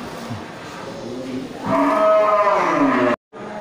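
A Simmental cow lows with a long, loud moo at a busy livestock market, set against a steady crowd murmur and background noise.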